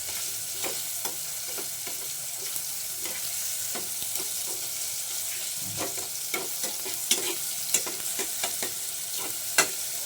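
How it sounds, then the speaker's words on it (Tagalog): Tomatoes stirred in hot cooking oil in a pan, a steady close sizzle with soft scraping and clicking of the utensil recurring at an uneven rhythm, no talking. "Ayan, halu-haluin lang natin yan dyan."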